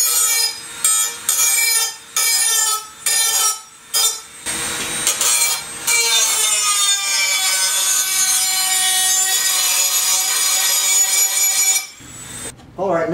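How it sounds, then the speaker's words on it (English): A metal file rasps by hand over drilled and tapped holes on a Yamaha Radian motorcycle custom build part, cleaning off slag in a series of loud, close strokes that end in one longer continuous scrape. "And I want to file the holes that I drilled and tapped. Just cleaning off all of that slag."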